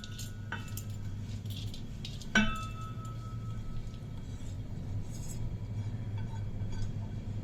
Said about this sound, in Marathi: आता आपण हे परतलेले तांदूळ या भांड्यात काढून घेते